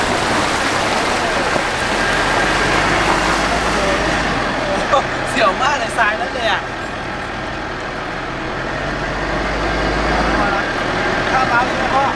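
A vehicle drives along a river, its steady engine rumble mixed with splashing water for the whole stretch. Brief chirps rise in the middle and a voice speaks at times.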